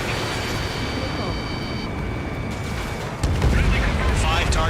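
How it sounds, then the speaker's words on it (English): A missile fires from a fighter jet in the combat flight game Ace Combat 7, a sudden loud whooshing roar cutting in over steady engine rumble and game radio chatter. "Fox 2. Page 2, missile launch."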